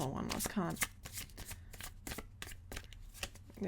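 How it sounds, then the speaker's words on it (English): Tarot cards are shuffled by hand in quick, crisp riffles and flicks, a rapid run of papery snaps close to the listener, with a person talking over the shuffling. "Let's pull one last card."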